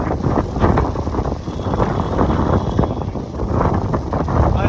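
Strong wind buffets the microphone in continuous rumbling gusts, loud and close throughout.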